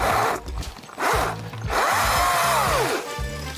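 A STIHL chainsaw cuts through hard plum wood, the motor loud and close, its pitch rising and dipping repeatedly as the chain bites into the log and revs back up.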